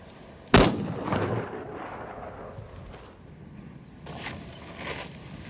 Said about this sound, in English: Breathe out before you shoot. and squeeze the trigger.